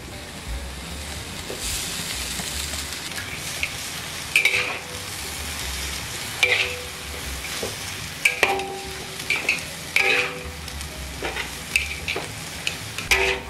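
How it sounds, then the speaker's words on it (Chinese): Rice noodles tossed with canned pork ribs in a hot pan give a steady home-kitchen sizzle, with spatula scrapes and clacks striking at irregular intervals, loudest near the middle and end. "现在放米粉进下面了，叫我炒油嘛"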